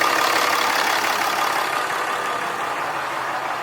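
A 4th gen Cummins diesel in a dually pickup idles with a steady, dense rumble and clattery texture, close and constant for a few seconds with no voices over it.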